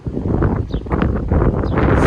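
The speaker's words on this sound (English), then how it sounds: "It's a windy day, so I do apologize for that noise." Gusty wind buffets the microphone outdoors during a Verizon 5G mmWave speed test, producing loud, low rumbling bursts throughout.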